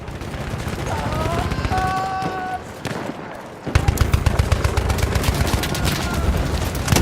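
Bursts of rapid gunfire and heavy battle noise from the Battlefield 1 video game, loud and continuous, with a brief lull before a dense stretch of shooting resumes.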